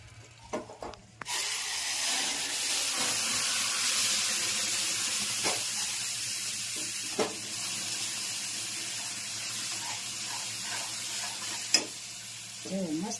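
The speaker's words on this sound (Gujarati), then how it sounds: "પછી આ ગોળવાળું પાણી ઉમેરવાનું." Jaggery water poured into sheera (semolina halwa) roasting in a pan sets off a loud, steady sizzle that holds evenly for several seconds, with faint stirring scrapes and small clinks on top and no talking.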